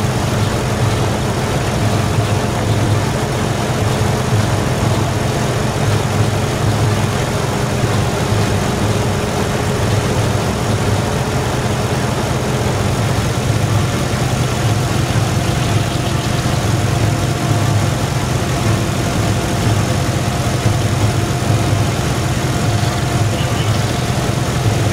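Old cars started again in spring after sitting buried in winter snow, among them an Impreza and a Honda Accord, idling with a loud, steady low rumble that runs unbroken for the whole stretch, close by.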